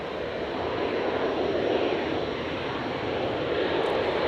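A Virgin passenger aircraft from Melbourne touches down at Brisbane airport on a stormy night, its engines making a steady, loud broadband roar that holds evenly throughout without distinct changes.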